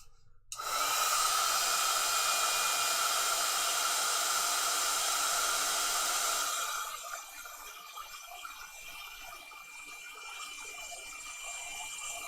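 A pinball playfield wiped with naphtha is dried with a steady blower or air stream, a loud broadband hiss running for about six seconds before cutting off and leaving quiet room noise.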